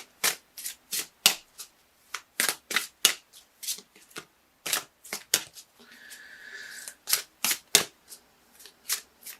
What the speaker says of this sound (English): I'm just looking at these cards over here as I shuffle.